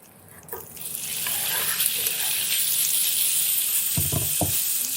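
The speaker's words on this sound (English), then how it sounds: "nice sizzle there" Raw chicken drops into an oiled hot pan and erupts into a loud, bright sizzle that swells within the first second and holds steady, with a couple of low knocks from the pan near the end.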